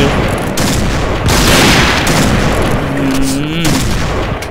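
Gunfire in the shooter game Point Blank, a steady dense burst of shots and glass breaking sounding loud throughout, with a voice talking over it.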